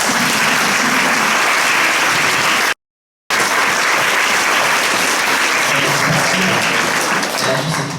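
Applause from an audience at La Basoche 2016 fills the space as dense, loud, sustained clapping, cut off for a moment by a brief gap of silence before resuming.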